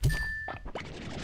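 A musical pillar in the video game Slime Rancher 2 gives a bright, ringing chime: one sustained tone and then a few quick struck notes over a busy game background.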